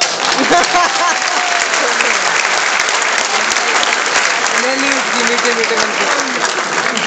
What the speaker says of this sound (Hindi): मैं चाहता हूँ आप सारे लोग ऊपर हाथ करके ताली बजा के मेरी बात का समर्थन करना